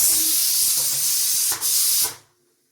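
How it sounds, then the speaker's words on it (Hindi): Tadka of hot oil sizzling as it is poured over cooked dal, with chopped tomato and onion on hand; a loud, steady broadband hiss and spatter, close up, surging twice before cutting off abruptly. "तो अब लगाते हैं तड़का।"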